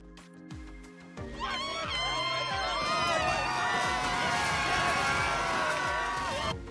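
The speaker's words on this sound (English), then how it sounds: "Well, that's a crowd of people." Short recorded sound effect of a crowd of people cheering and shouting, starting after a few low thumps and swelling into a dense, sustained roar of many voices.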